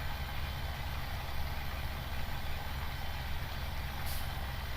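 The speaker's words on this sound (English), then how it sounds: "Let's see if this poor little tractor can get up." A tractor engine labors up a hill in the Farming Simulator 17 video game, a steady, loud, low mechanical drone that holds unbroken for the whole stretch with no voices over it.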